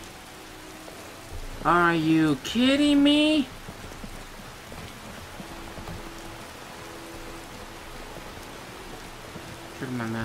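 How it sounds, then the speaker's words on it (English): Steady rain hisses in the video game Skyrim, a constant soft wash of falling drops beneath a man's brief exclamations. "It's raining."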